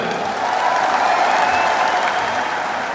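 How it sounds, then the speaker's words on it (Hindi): Steady crowd applause from an audience at a Bhim Army political rally, dense and sustained throughout with no clear breaks. "एक बार इनके लिए भी जोरदार ताली हो जाए।"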